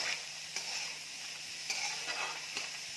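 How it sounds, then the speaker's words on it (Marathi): Finely chopped onion dry-roasts in a pan without oil, a soft steady hiss with light scraping stirs recurring every second or so, close and fairly quiet with no voices. "आता हा बारीक चिरलेला मी कांदा भाजून घेत आहे पहिला थोडासा बिना तेलाचा परतून घ्यायचा"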